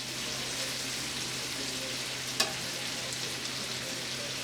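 Peppers sizzle steadily in a hot pan for a shrimp and vegetable noodle dish, a continuous close frying hiss with one brief clink partway through and no talking.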